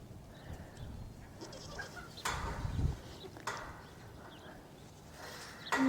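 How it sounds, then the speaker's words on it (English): Baby goats on a farm bleating in a few short calls, moderately near, over a steady breezy outdoor background with occasional rustling. "Baby goats."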